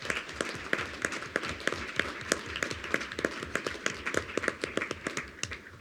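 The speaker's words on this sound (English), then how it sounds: "And folks, that deserves a hearty round of applause." A school board meeting audience breaks into steady applause for high-scoring students from Chaparral, Legend and Ponderosa High Schools. Many hands clap at once in a dense, continuous round that holds an even level throughout.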